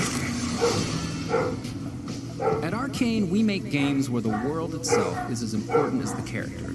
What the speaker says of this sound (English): Sorry about my dogs yet again.